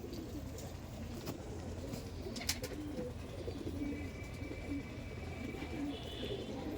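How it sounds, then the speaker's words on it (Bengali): Kalasobuj pigeons cooing in a cage, with low, faint murmuring coos repeating steadily under a quiet, roomy background and a few light clicks. "দেখুন কালা সবুজ পেয়ার, দাদার ঘরের, আকাশদার ঘরের কালা সবুজ পেয়ার"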